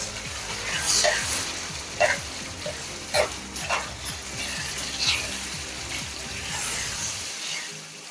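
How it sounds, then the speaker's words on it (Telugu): Gongura leaves being stirred with prawns in a pan, heard as repeated scraping strokes over a soft, steady sizzle, with a dog yipping faintly in the background. "వేసి బాగా ఒకసారి మిక్స్ చేసుకుందాం అండి. ఇదంతా ఒకసారి కలుపుకుందాం."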